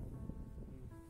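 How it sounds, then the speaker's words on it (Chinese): Strong wind gusting on a mountain hiking trail near Lake Louise in Banff National Park, a short, quiet, rough rush of air buffeting the microphone. "这里的风很大"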